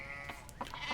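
A sheep bleats in the video game Pentiment, a couple of short, fairly faint bleats heard alone over a soft steady ambient background.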